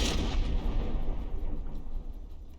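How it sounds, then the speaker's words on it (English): Frag shells bursting in From The Depths during a tank battle, a dense rumbling roar of overlapping explosions that stays loud throughout and slowly fades near the end, with no talk. "Those frag bursts from above are just..."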